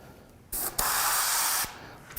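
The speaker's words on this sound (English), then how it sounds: "And I'm going to come in and spray this dark green here." Airbrush spraying dark green illustration paint onto a Boba Fett helmet, a close, loud hiss in two bursts: a long spray of about a second, a brief break, then a shorter burst.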